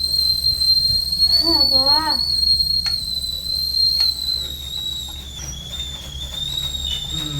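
A kitchen pressure whistle blows a sustained high shrill tone during home cooking of rasam, steady and loud with faint hiss, while a brief voice-like warble sounds early on.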